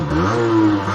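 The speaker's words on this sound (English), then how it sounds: "before we end this video, I'm gonna pop a wheelie for you guys" An Aprilia RS4 50 motorcycle engine revs hard, a loud, close, buzzing two-stroke drone that holds and swells briefly in pitch over about a second.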